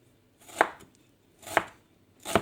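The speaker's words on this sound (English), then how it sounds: "take a whole onion and slice it" A knife slicing through a whole onion, for an Indian-style red claw crayfish curry: three crisp, close chops at a steady, unhurried pace with near silence between them.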